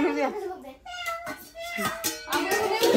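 A cat meows several times in drawn-out, wavering cries, close by, with a voice talking over and between the meows.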